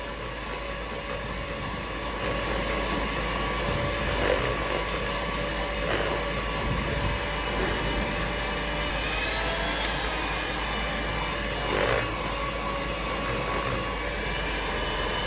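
Batter for a rice-flour bapel cake is beaten, giving a continuous, loud, even whirring drone with a few faint clicks and knocks over fifteen seconds, with no speech.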